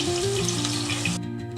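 Hilsa fish frying in hot oil gives a close, continuous sizzle with a faint crackle, cutting off abruptly near the end to a softer hiss.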